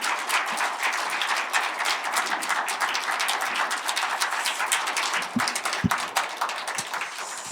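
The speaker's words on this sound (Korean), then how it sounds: "김병호 목사님 앞으로 나오실 때 큰 박수로 환영해 주시기 바랍니다." A church congregation applauding to welcome a pastor at a Friday prayer service, a dense, sustained burst of clapping from many hands filling the room, with a few sharper close claps standing out and no speech.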